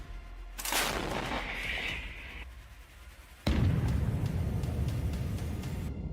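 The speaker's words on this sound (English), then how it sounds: "Ukrainian M777 is used to strike Russian column." A Ukrainian M777 howitzer strikes a Russian column: a sharp blast rings out and tails off with a hissing whine, then a second heavy boom hits and leaves a rumbling, crackling roar that lingers, with no voices.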